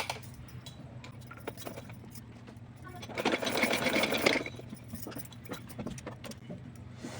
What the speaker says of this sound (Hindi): सिलाई लगाऊँगी।